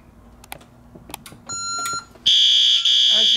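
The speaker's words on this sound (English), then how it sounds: "I'm now going to activate the four-wire smoke detector." A Honeywell commercial fire alarm panel goes into alarm after a four-wire smoke detector is activated: a few faint clicks and short beeps, then a loud, steady high-pitched alarm tone sounds alone, nearby.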